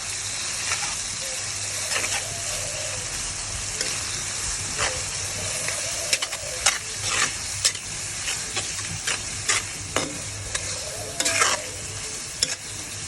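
Shrimp frying with onion, salt, turmeric and chili powder in a pan, a steady close sizzle broken by repeated sharp scraping stirs and clinks of the spoon, loud and continuous.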